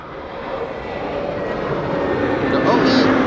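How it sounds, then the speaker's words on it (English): An EasyJet Airbus A320neo arriving at Amsterdam Schiphol on a sunny day, its engine roar building steadily louder as it approaches, with a voice talking over the noise. "This is EasyJet flight 27866 arriving from Geneva, regular A320 Neo"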